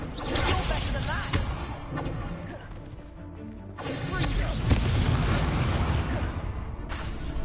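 A fire spell cast in Hogwarts Legacy, loud crashing, shattering bursts with whooshing surges in two long waves separated by a brief lull, with a voice shouting at times.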